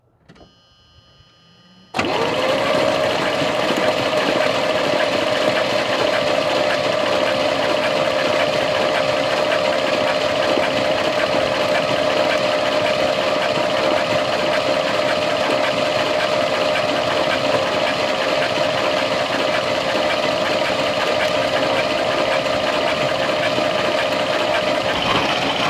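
A 1976 GMC C35 truck engine cranks over and catches, then runs steadily at a loud, close, even idle with a sustained tonal whine, holding nearly unchanged for over twenty seconds.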